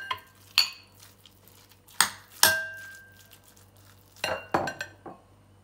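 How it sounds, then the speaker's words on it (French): Minced meat for a beef kefta tajine dropped into a dish for mixing, giving a few soft clinks and knocks of utensils against the dish at irregular intervals over a steady low hum. "je vais mettre la viande hachée dans un plat pour mélanger"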